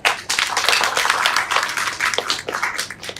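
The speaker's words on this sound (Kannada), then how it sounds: "ಅವರಿಗೆ ನಿಮ್ ಕಡೆಯಿಂದ ಪ್ರೀತಿ ಒಂದು ಚಪ್ಪಾಳೆ." Dense, lively applause from an audience at a Kannada film audio launch event, with many hands clapping together continuously and fairly close for several seconds.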